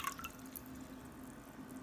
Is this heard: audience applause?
no